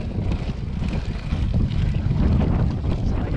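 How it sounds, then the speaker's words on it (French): Strong wind on a Loire levee during a bike ride buffets the microphone in a steady, roaring rumble that dominates throughout, with no voices. "Et encore une levée pleine de vent."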